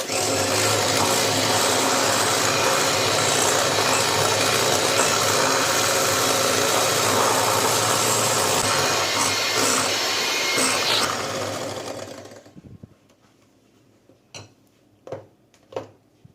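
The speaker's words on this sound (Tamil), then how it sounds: "சீனி பொடி பண்ணது சேர்த்ததுக்கு அப்புறமா நல்லா பீட் பண்ணிக்கலாம்" An electric mixer beats eggs and powdered sugar for a Swiss roll cake, a steady motor whir with rattling beaters that runs for about twelve seconds before switching off, followed by a few light clinks.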